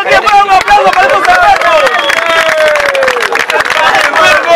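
Crowd at a rap battle final cheering and clapping loudly, a dense roar of voices and scattered claps running throughout with shouting on top.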